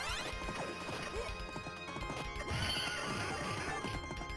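A horse in a video game neighs loudly over a rapid clatter of galloping hooves, crashes and thuds, all layered under continuous game music.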